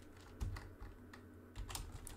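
Faint, quick run of computer keyboard key presses entering numbers, light clicks in a short burst.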